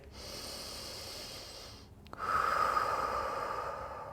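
Slow, deep breathing during a prenatal yoga stretch, with a long airy exhale, a brief pause, then a stronger breath drawn in close and clear.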